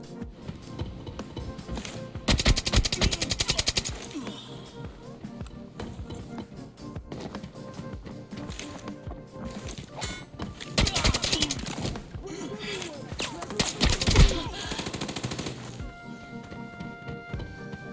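AK-74N assault rifle firing in the video game Arena Breakout: loud, close bursts of rapid automatic fire in two long strings, with scattered single shots and clatter between them.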